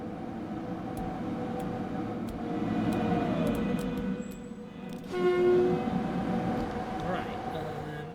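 Pendolino high-speed trains run through a London Euston build in the game Transport Fever 2, giving a steady rolling rumble with a horn-like tone near the middle, over constant game ambience.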